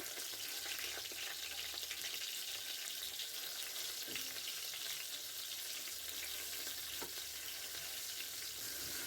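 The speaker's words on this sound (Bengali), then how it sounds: "টমেটোটা যতক্ষণ না গলে ততক্ষণ কষিয়ে নেব" Chopped, deseeded tomatoes fry in a pan for chana masala, giving a steady, fairly quiet sizzle that runs throughout with faint stirring clicks and no talking.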